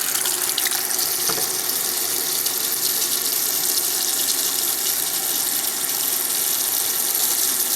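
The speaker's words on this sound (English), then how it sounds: "Just put some water in until they're covered." Tap water runs steadily into a pot of quartered figs for fig jelly, a continuous close, fairly loud splashing stream with no pauses and no talking.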